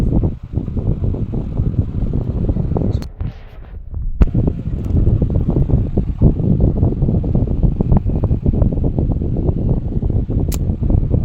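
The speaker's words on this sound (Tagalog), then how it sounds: "At the same time, nagpa-electric fan din si Papi guys." A steady, loud whooshing hum of an electric fan runs near the microphone almost the whole time, briefly dipping once before resuming, with no talking.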